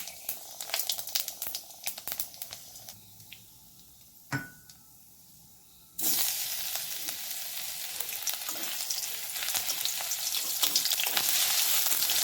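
Broken wheat (dalia) frying in a pan at home: a loud, steady sizzle breaks out partway through and continues strongly, after a quieter stretch with clinks and stirring noises.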